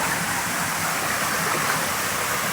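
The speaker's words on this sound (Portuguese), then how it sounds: "Aí segue aqui o curso do riacho." Swollen stream after heavy flooding rushing through a natural waterfall area with rock pools, a dense, constant roar of close water with no voices.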